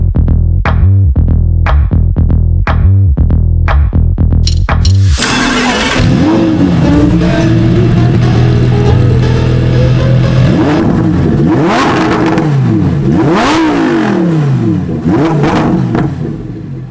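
A Lamborghini Huracan STO cranks over with a rapid series of starter pulses, then fires into a loud, close, sharp-edged idle followed by repeated throttle blips that rise and fall in pitch.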